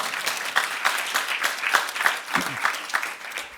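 An audience at the Assemblée nationale during a lycée debate competition applauds, a full, steady wash of clapping from many hands lasting a few seconds.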